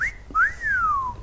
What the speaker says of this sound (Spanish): los hombres siempre aprendemos a silbar con las mujeres